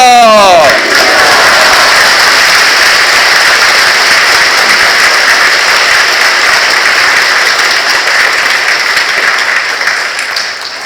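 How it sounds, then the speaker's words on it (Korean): An Easter Vigil congregation at a Catholic parish church bursts into loud, sustained clapping and shouting after a brief opening call, the crowd noise holding strong before easing off at the end. "닐리리아를 외치면서 박수 치러 가겠습니다"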